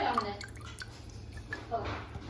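Mixed two-part varnish is poured onto a kitchen countertop, a faint, quiet trickle with a few soft drips under low background noise and light talking.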